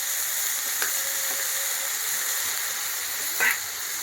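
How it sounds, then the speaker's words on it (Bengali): Drumstick (sajne) flowers hitting a hot frying pan set off a steady, close sizzle of frying with faint stirring clicks, alone with no voices. "ফুল ধুয়ে রাখা ফুলগুলো, সজনে ফুলগুলো দিয়ে দিলাম।"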